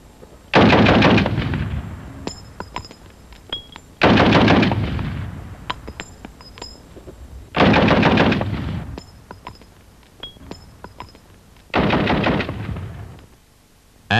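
Automatic rifle fire in a video game, with no muzzle brake fitted, comes in four loud sustained bursts, each rapid stream of shots followed by quieter mechanical clicks and ringing tails.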